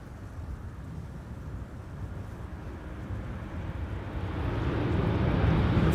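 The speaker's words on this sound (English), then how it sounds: "A350 about to land" An Airbus A350 comes in to land at Amsterdam Schiphol Airport as a broad, low jet roar heard from a distance. It swells steadily toward the end, with some wind rumble on the microphone.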